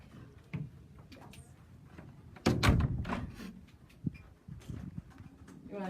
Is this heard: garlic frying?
no